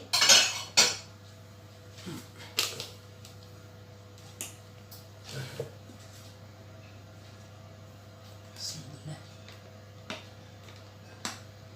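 A spoon scoops vanilla muffin batter from a bowl, giving sparse, sharp clinks and taps of metal against the bowl at irregular intervals over a quiet, steady background hum.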